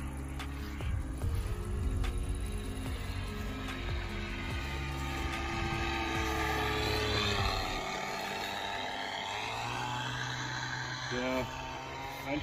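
Model airplane engine and propeller droning steadily overhead throughout, a continuous buzzing whine that stays close and loud; the motor is overpowered for the small plane.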